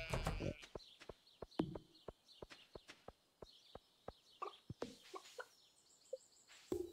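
Chicken clucks and sharp footstep-like clicks from the Stardew Valley farm video game, a run of brief evenly spaced taps with short cackling fowl calls scattered between them, clear and close against a quiet background.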